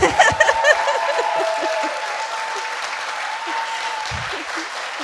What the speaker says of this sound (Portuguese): agora a gente pode bater mais palmas